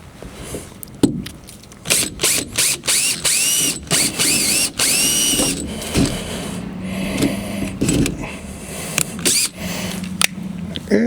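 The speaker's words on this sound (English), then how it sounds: "I got my 3/16 drill bit here. We're going to try and drill this out here real quick." A 3/16 drill bit bores out a fastener on a Jeep Rubicon Gladiator fender extension, the power drill whining in repeated short bursts with brief pauses between them, close up and loud, with no talking.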